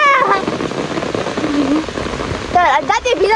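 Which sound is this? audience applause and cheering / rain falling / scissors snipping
rain falling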